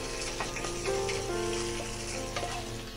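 Green chillies and garlic slivers frying in hot oil in a pan, a steady close sizzle running throughout with a few faint stirring scrapes, no voices.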